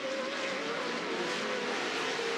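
Off-road racing trucks roaring around a dirt racetrack during a TORC race, a loud sustained engine drone with a high whine, heard from a distance with no talk.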